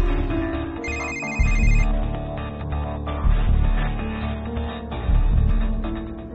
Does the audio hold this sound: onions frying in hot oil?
no